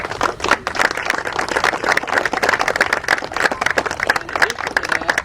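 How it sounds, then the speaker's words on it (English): Crowd clapping and applause at an outdoor ribbon-cutting ceremony in Terrell, Texas, for Jamie Foxx, a steady dense patter of many hands held at even loudness for the whole stretch. "I think we should give them all a round of applause"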